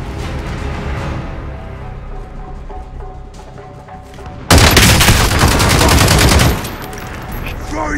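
Loud, dense automatic gunfire from a Call of Duty Warzone Plunder match erupts in a sustained burst of rapid shots, standing out sharply over the lower, busier game background before cutting off.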